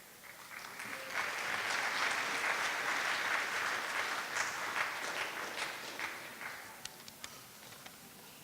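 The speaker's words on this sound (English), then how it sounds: "So a big round of applause, please, for Brajavilas Prabhu." A crowd at a Temple of the Vedic Planetarium fundraising event applauds Brajavilas Prabhu, a dense, sustained wash of clapping that tapers off into a few scattered claps near the end.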